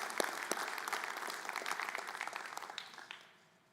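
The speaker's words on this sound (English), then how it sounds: "I think they earn a round of applause for that," Audience applause at a city's State of the City address, a dense, steady crowd clapping that stays full for about three seconds and then fades away at the end.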